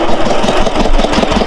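Close, loud chugging of a boat engine at Gosaba ghat in the Sundarbans, a rough rhythmic diesel throb running without pause and with no voices.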